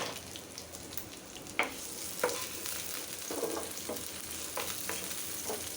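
Onion, salt and oil frying in a pan for a dried fish curry, a steady soft sizzle with a few louder stirring scrapes and clinks, close by and without talk.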